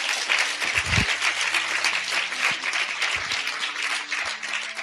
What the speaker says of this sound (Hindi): ताली बजा के प्रभु को धन्यवाद दें।